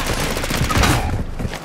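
Rapid overlapping gunfire in the video game Vondel, a dense loud burst of shots that fades toward the end, with no talking over it.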